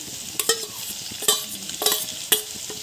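Boiled, diced Assamese potatoes being stirred into a frying pigeon meat curry, with a constant sizzle and several distinct scraping strokes of the spoon against the pan.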